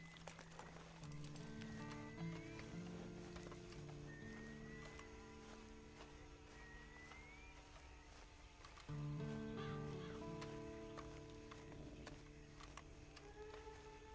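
Horse hooves clop in a steady rhythm against a sustained musical backdrop with sliding tones, the pace continuing throughout, in the video game Red Dead Redemption 2 Online.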